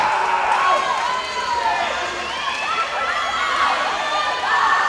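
Crowd at a WPIAL high school swimming meet, Peters Township at Gateway, with loud cheering, shouting and whistling that swells and fades over a few seconds and carries through a hall-like echo.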